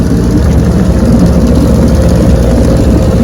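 A restored Evinrude 9122R outboard motor idles on a lake, a loud, steady low rumble that stays even and close throughout.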